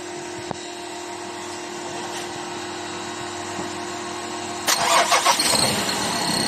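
A quiet idle hum, then a Ford Ranger 3.2 pickup truck engine with an unusual noise cranks and catches midway, its rough rumble rising and sputtering before settling into a louder running drone.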